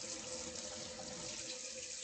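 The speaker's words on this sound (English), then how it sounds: "soap and water for all the utensils" A kitchen tap runs steadily into a sink as utensils are washed with soap, a continuous faint hiss of flowing water with no voices.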